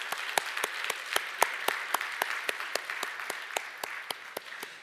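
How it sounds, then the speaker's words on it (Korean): Steady applause from a church congregation at a Korean church anniversary ordination thanksgiving service, with sharp individual claps standing out in an even rhythm for about five seconds and no talking. "다시 한번 하나님께 영광의 박수를 올려드리겠습니다"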